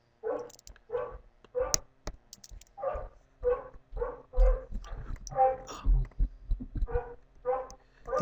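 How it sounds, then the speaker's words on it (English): A dog barks repeatedly indoors, a run of about a dozen sharp, close barks in an uneven rhythm, some with whimpering, loud and mostly alone. "Sorry about the dog."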